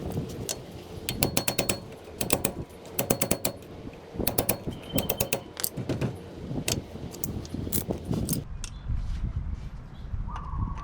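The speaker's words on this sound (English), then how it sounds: "So I'm gonna be removing the dust cap." A dust cap is worked off a wheel hub assembly during a brake and bearing job, giving quiet, close metallic clicks, taps and scraping in uneven clusters with a short pause before a softer tail.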